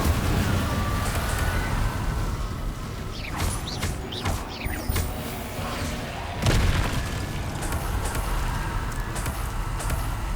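Explosions from the Confringo blasting spell in Hogwarts Legacy, a dense run of booming, crackling blasts and debris rumble over steady game noise, with sharp bursts clustered in the middle.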